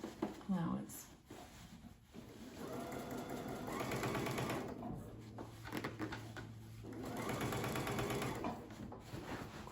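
A sewing machine fitted with a twin needle stitches a seam through fairly heavy fabric, running in steady mechanical bursts with short pauses between them, while a voice talks throughout.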